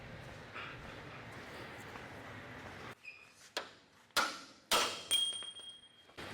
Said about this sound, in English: Try to hammer on this side.